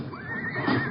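A horse whinnies in a corral as a radio drama sound effect, one rising and falling neigh lasting about a second, fairly close and clear with no talk over it.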